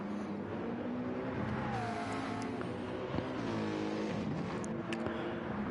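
Race car engine in a league race, a continuous broad roar with shifting pitch as cars pass, steady and fairly loud throughout.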